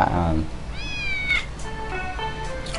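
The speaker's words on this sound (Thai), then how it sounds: "อันนี้ทดลองทดลองแมวนะครับ" A cat meows twice in a video game, rising and falling calls standing out over steady game background noise, with a voice briefly talking at the start.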